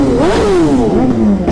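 A loud motorcycle engine revs up and down close by, its pitch climbing then sliding back over a brief, continuous burst.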